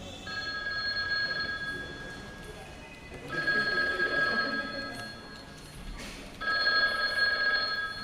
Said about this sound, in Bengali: পরের দিন অফিসে শীতেশের নামে ফোন আসে।